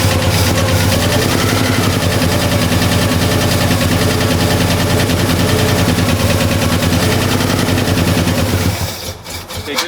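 A 1964 Ford Fairlane engine, long neglected, runs loud and close with a rough, rapid lumpy firing and heavy low exhaust rumble, steady throughout before easing off at the very end.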